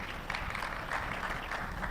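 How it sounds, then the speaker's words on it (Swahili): Audience applause at a farming business pitch competition, steady crowd clapping held at an even level for the whole moment, with no talk over it. "Makofi mengi tafadhali anapowasili hapa mbele."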